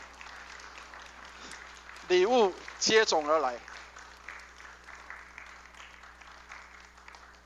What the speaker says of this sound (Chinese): 我们再次的拍手欢迎他们加入神的教会里啊